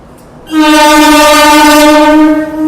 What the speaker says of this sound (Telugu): మన ట్రైన్ వచ్చేసి దాదాపు గంట లేట్గా అయితే మనకైతే చిత్తూరుకి అయితే వచ్చేసింది